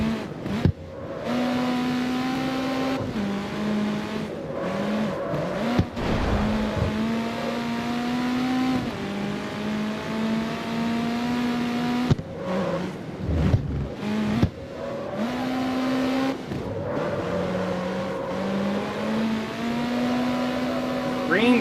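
A car in the street-racing video game CarX Street revs its engine through the gears, with the pitch climbing and then dropping back at each shift. The engine is loud and steady throughout, and someone talks over it.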